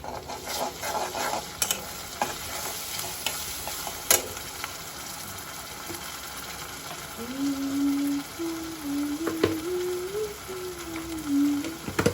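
Chili powder and ginger-garlic paste fry in a pan with a soft, continuous sizzle, broken by scraping stirs and a few sharp clinks, while a thin tonal whine rises in the latter part.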